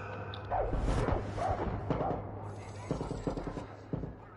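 Gunfire in the Far Cry 6 video game, several bursts and scattered shots at moderate level over background game noise, a few sharper cracks near the end.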